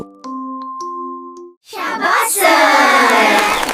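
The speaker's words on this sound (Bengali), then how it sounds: "এই দেখে সব পড়ুয়া পাখি তালি দিল" Cartoon birds in a classroom clap together in a sudden burst of dense applause, preceded by a few bright chime tones and brief silence.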